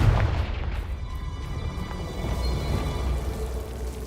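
A Confringo spell goes off in a wizard video game with a sharp boom at the onset, followed by a crackling, rumbling decay that lingers at moderate level.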